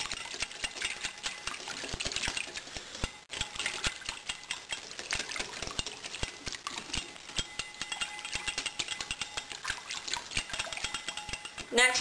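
An electric mixer whirs through milk and butterscotch pudding mix, a steady buzzing drone with a brief dip near the start and rattling clicks scattered throughout.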